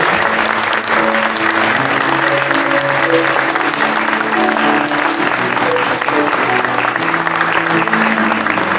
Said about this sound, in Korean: 우리들이 꽃다발을 증정할 때 다 함께 박수로 축하해 드리도록 하겠습니다